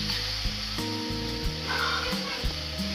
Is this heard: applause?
no